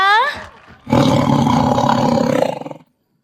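A short vocal sound, then a single deep, loud tiger roar that swells for about two seconds and fades into silence.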